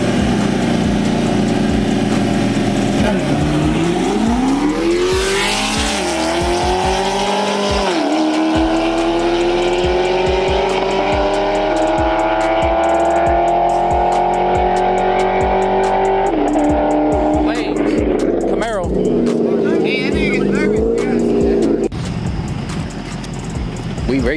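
A Chevrolet F-body Camaro races a Cadillac ATS-V in a street race. Loud engines rise and fall through gear changes, and tire noise and crowd voices come up toward the end.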